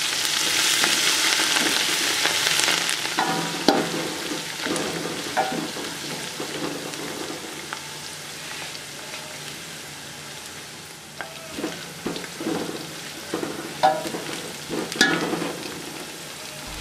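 Green chillies fry in a pan for aloo pulao, giving a steady close-up sizzle with occasional sharper crackles and stirring scrapes throughout, no voices.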